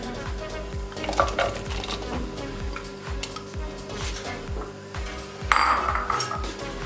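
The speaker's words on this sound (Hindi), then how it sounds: "प्याज ले लिया हमने, 2 बड़े साइज के, इनको स्लाइस कर लिया, ये डाल देंगे" Two large sliced onions drop into a mutton karahi pan, bringing a busy clatter of utensil scrapes and stirring over a steady sizzle, with a sharper burst of frying near the end.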